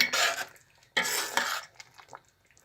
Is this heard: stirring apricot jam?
yes